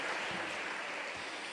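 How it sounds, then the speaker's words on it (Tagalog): A church congregation claps together in a sustained, dense burst of applause during a preaching service, steady and fairly loud throughout with no voices standing out. "Isang malakas na palakpak para sa mahal na Panginoon."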